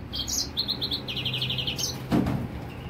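Himalayan goldfinch (Carduelis caniceps) chirping indoors in a cage setting, a run of quick bright repeated tweets in rapid bursts, fairly close and clear, followed by a short knock or rustle near the end.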